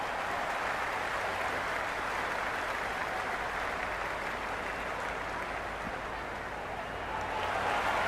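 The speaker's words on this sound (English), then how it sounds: "The crowd are really getting quite raucous." A large crowd at a one-day international cricket match between India and New Zealand roars continuously, a dense, steady wash of cheering and noise that stays loud and even throughout, with no single voice standing out.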